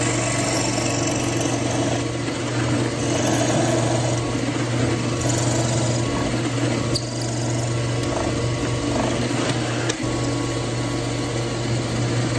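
A steady motor whine runs continuously with a low hum beneath it, close and fairly loud, as a drill bores without pause through a manzanita hybrid pen blank.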